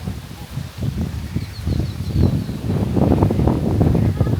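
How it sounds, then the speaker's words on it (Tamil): Strong wind gusting across an open farm outdoors, a steady broadband rumble and buffeting against the microphone that builds louder toward the end, with no talk in the clip. "காற்று நல்லா அடிச்சுக்கிட்டு இருக்கு"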